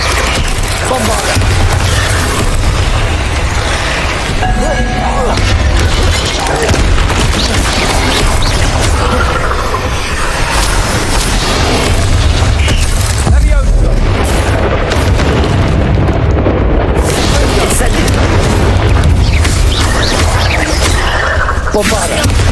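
Bombarda blasting spell booming in the Hogwarts video game, a dense run of loud explosions under continuous spell-casting chatter and game music, with no pause through the whole stretch.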